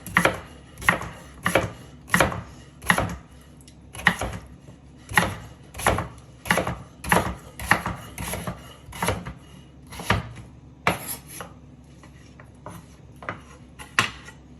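A kitchen knife chops sweet potato into half-inch pieces on a wooden cutting board, about twenty-five sharp, close thunks in uneven bursts with brief pauses between, and no talking.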